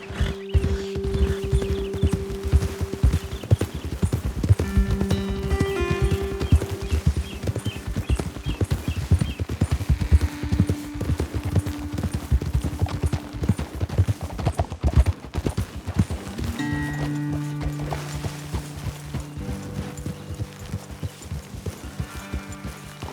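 Horses' hooves clip-clop steadily on a trail in the Western video game Red Dead Redemption 2, a loud, close and continuous rhythmic beat with game music tones layered over it and no talking.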